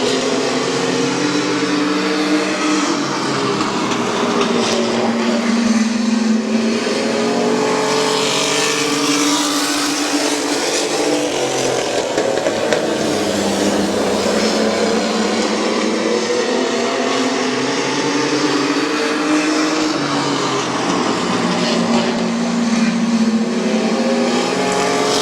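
Stock race cars circle Midvale Speedway in a loud, continuous pack, engines roaring and rising and falling as they pass, with no voices.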